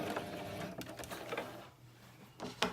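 A home sewing machine back stitching while making a drawstring bunny gift bag, a steady rapid mechanical whir that slows and pauses briefly, then picks up again with a short burst, heard close with no talking.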